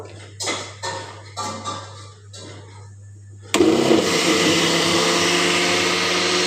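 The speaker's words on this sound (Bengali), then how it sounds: "এগুলো ব্লেন্ডার করে নিব।" An electric blender mixes cake batter containing mustard oil: a few light taps and knocks come first, then the motor kicks in with a loud, steady whirring roar that continues to the end.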